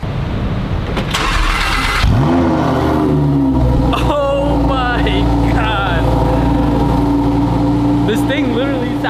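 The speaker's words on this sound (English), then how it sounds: "This thing literally sounds insane for being a stock car." A Lamborghini Huracan with Corsa mode selected starts with a sharp bark, then settles into a loud, steady idle broken by several rising revs, while a person exclaims over the engine.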